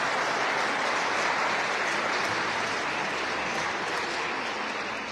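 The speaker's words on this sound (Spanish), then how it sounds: "¡Aplausos!" A congregation listening to a priest bursts into steady applause, a dense, continuous patter of many hands that holds evenly and eases slightly at the end.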